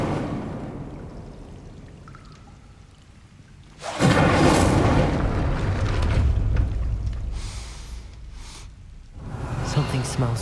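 Incendio fire spell cast in the video game Hogwarts Legacy, a sudden loud whooshing burst of flame that roars on for several seconds over quieter ambient background, close and full.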